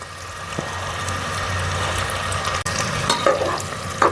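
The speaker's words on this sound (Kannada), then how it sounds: "ಈರುಳ್ಳಿ ಫ್ರೈ ಆಗೈತೆ" Onion frying in hot oil for avarekai rice gives a continuous, close sizzle, with a few clinks and scrapes of stirring near the end.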